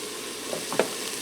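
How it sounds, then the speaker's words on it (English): Onions and spices sauteing in an Instant Pot, a steady quiet sizzle with a couple of small crackles and a brief stir near the end. "I'm going to allow that to saute till the onions start to soften and turn translucent."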